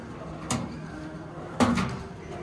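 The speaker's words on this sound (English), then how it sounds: "with soft close drawers" Soft-close drawers on a 63-inch tool storage cabinet shut in a store, giving two soft, muffled thuds about a second apart over faint background hum.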